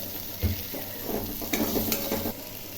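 An eggplant dish seasoned with garam masala, salt and a little sugar fries in a pan, with a steady close sizzle and several rhythmic scraping stirs of the spoon.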